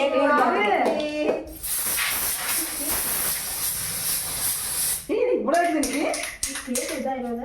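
At a birthday celebration a party spray can lets out one loud, continuous hiss lasting a few seconds, framed by excited voices talking and singing close by before and after.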